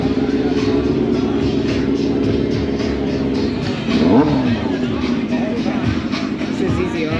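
A straight-piped motorcycle idles with a rough, loud rumble, then revs once in a rising and falling blip around the middle, with lighter engine chatter after; people talk nearby underneath.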